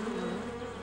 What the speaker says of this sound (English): Not rain. They're bees.